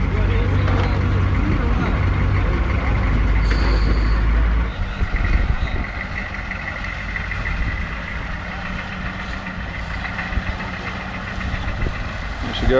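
A Humvee engine rumbles as the vehicle drives into deep water, with a loud low-end roar that eases after a few seconds into a softer idle. Voices talk over it throughout.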